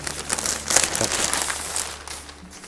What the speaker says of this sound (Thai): เราก็ขยำอย่างนี้เลยครับเพื่อนๆนี่นะครับ ขยำเป็นก้อนแบบนี้นะครับ